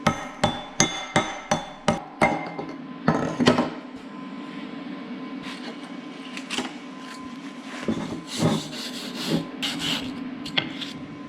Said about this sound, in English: Claw hammer do the same thing.